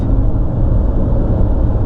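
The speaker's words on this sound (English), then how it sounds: "Yeah, big ass pickup truck." A big pickup truck passing close on the road, a loud, steady low engine and tire rumble filling the whole stretch without talk.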